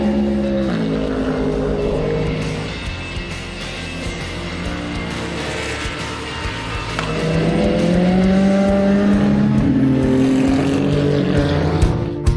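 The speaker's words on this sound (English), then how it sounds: "Let's film some race cars." Race cars at Fuji Speedway in Japan during a 6-hour endurance race, with engines droning in the distance before a loud car roars past up close, its pitch climbing through the gears.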